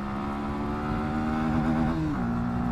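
A Bajaj Pulsar NS160 BS7 motorcycle with a 36T sprocket accelerates hard with a pillion rider aboard. The engine drone climbs steadily in pitch, then drops sharply at a gear change before pulling again, sounding close and continuous.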